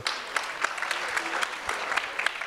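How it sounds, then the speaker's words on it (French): Audience at a digital communication awards ceremony applauding the candidates, a brief burst of lively clapping with a few distinct sharp claps and faint voices underneath. "On peut tous les applaudir une dernière fois."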